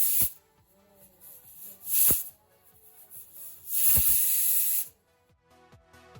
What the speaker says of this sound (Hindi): यहाँ मेरी विसल्स हो गई हैं और प्रेशर कुकर का प्रेशर भी रिलीज़ हो गया है।